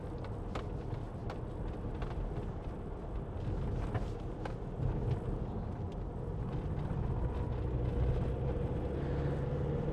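A 2021 Ford Transit Custom 2.0 EcoBlue van climbing a hill, heard from inside as a low, steady engine drone and rumble with road noise, slightly louder partway through, moderately quiet and continuous.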